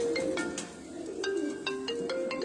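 Domestic flying pigeons on a Sialkot rooftop loft coo repeatedly in soft rhythmic phrases, fairly close, over faint background noise with no talking.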